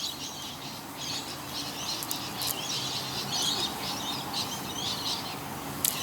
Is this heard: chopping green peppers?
no